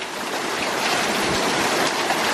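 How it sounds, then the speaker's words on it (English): A dense, steady roar of heavy rain pours down without a break, loud and close, like a torrential downpour drumming on every surface. "It's like a torrential downpour."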